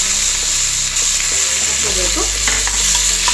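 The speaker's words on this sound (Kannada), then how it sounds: "ಚೆನ್ನಾಗಿ ಫ್ರೈ ಮಾಡ್ಕೋಬೇಕು." Buttermilk chillies sizzle and crackle steadily in hot tempering oil, a loud, close, continuous fry with stirring scrapes, while a voice speaks briefly over it.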